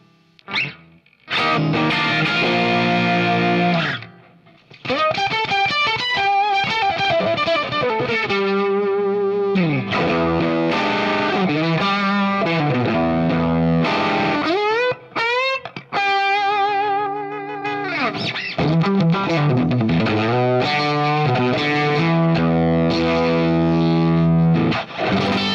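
An electric guitar played through an Axe-Fx III modeler with fuzz and phaser effects, giving thick, distorted, sweeping tones across a run of licks and sustained bends, loud and continuous with brief pauses and no talking.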